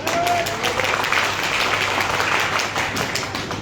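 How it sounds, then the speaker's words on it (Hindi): Audience clapping at a direct selling event, a dense steady patter of many hands filling the room, with voices murmuring underneath. "तो तालियां बजानी है तो दिल खोल के बजाइए सर"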